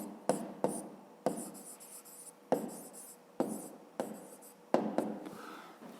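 Pen or chalk writing out a planet's radius figure, a series of short scratchy strokes in quick, irregular bursts, close and dry with brief gaps between them and no voices.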